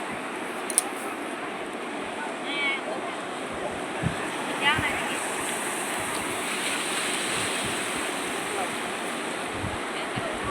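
Steady roar of ocean surf at Digha beach fills the air, waves washing continuously with gusts of wind buffeting the microphone and faint voices in the distance.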